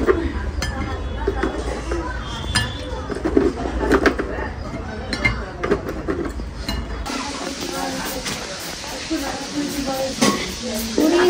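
Snacks are cooked for guests in a home kitchen, with intermittent stirring, soft sizzling and utensil clinks under ongoing conversation, and birds cooing nearby.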